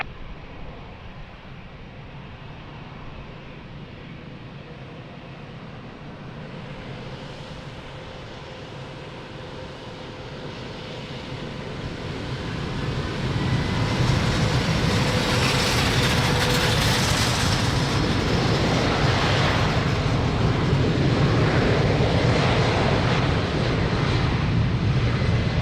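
A jet taking off from runway 02 at Lisbon Airport starts as a distant hum, then builds into a loud, steady roar of engines at full thrust that holds to the end.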